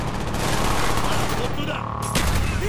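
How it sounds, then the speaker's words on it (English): Dense rapid gunfire in Call of Duty Black Ops, overlapping bursts coming from several directions, loud and continuous with a brief lull near the end, under occasional voice. "Oh, they're firing from both ends."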